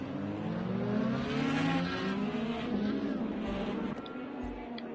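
IndyCar race cars rolling out for a formation lap at Watkins Glen in a racing video game, several engines droning and slowly rising in pitch together, loud and close, with a couple of low thumps near the end.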